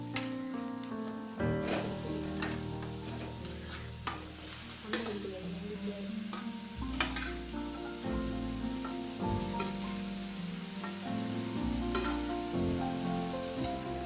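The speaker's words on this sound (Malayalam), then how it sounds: "ഇതിലോട്ട് ഇടാൻ പോവുകയാണ്. ഇട്ടിട്ട് നമുക്ക് മിക്സ് ചെയ്തെടുക്കാം." Washed chicken pieces are stirred and mixed with chili and turmeric powder for biryani, giving wet, scraping stirring sounds close up over a steady tonal backing.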